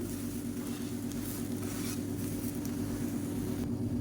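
Moong dal pesarattu flipped and pressed down on a hot pan, giving a steady, close sizzle that runs evenly throughout with no voices.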